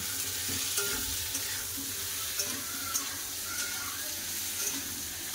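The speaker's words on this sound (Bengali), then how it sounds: "দিয়ে দেবো লবণ, খুব সুন্দর করে ভেজে নেবো" Vegetables with onion frying in oil with salt for a curry, a steady close sizzle with faint stirring scrapes, no voices.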